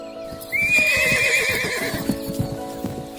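A riding horse lets out a loud, drawn-out whinny up close, while its hooves clip-clop in a steady rhythm beneath and after the call.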